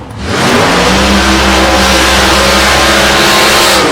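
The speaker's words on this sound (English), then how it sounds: "Gregory Angus from Melbourne in Victoria, the HQ Monaro." A Holden HQ Monaro race car's engine revs hard and close at South Coast Raceway during qualifying, a loud, sustained roar holding steady throughout.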